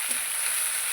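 Paste of ginger, cumin, garlic and onion spits in a very hot kadai, a dense, even frying sizzle heard up close with no talk, lasting about a second.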